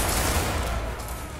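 Rapid volley of gunfire, several rifles firing together in a dense, sustained burst at close range, loud and continuous throughout, following a drill command to fire; no talking.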